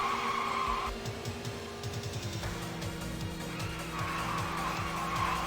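A Toyota Levin AE85 in the Initial D Arcade Stage Ver. 3 arcade racing game, with a buzzing engine revving up and down through gear shifts, sharp tyre squeals over it and game music underneath.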